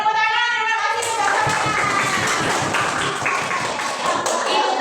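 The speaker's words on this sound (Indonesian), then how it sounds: "Beri tepuk tangan." A group of children in a classroom lesson breaks into dense, lively clapping after a short spoken line, the rapid hand claps continuing close and steady.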